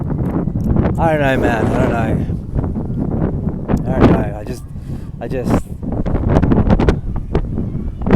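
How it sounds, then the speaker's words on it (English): Strong outdoor wind buffeting a microphone, a loud continuous low rumble of gusts under someone speaking casually throughout. "The wind is going crazy, so I'm hoping you guys can hear me properly"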